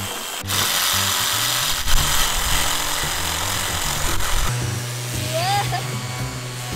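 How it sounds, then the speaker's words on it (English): Toy power drill used on a lawn-and-yardwork toy set, giving a steady buzzing whir with a low motor drone and a few clicks, close by, with a voice chiming in. "This is the drill."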